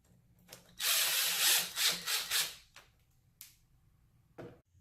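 A bolt being tightened during assembly of a table game with rods and players: a loud, steady burst of powered driving lasting about two seconds, followed by a few brief clicks and taps.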